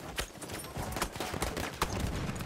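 Horse galloping in Battlefield 1 thuds in an uneven rhythm of hoofbeats amid battlefield noise, with sharp distant cracks mixed in, moderately loud throughout.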